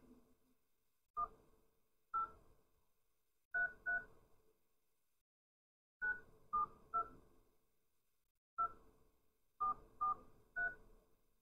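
Telephone keypad dialing, a quiet series of short DTMF tone beeps in irregular groups of singles and pairs, clear and isolated against near silence.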